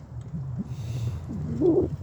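Soft, low cooing calls from birds at a feeding spot, repeated a few times, with a louder coo near the end, over quiet outdoor background.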